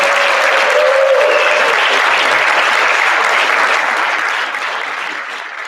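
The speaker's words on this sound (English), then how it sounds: "Can we give a round of applause to all the people who are there?" Loud, dense applause from an awards-night crowd at a swim and dive banquet, a steady roar of many hands clapping close by that holds strong before easing slightly toward the end.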